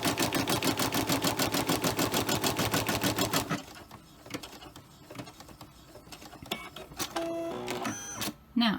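An embroidery machine stitches an in-the-hoop purse charm through thick layers, rattling in a fast, steady, loud rhythm before stopping, followed by scattered clicks and mechanical whirs as it resets.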